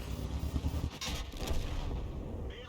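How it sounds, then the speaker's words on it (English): A Kampfpanzer tank fires its cannon in a video game, two dull booms close together amid a continuous low rumble of battle, heard faintly. "Gets around into the Kampfpanzer, who takes the opportunity to fire one back"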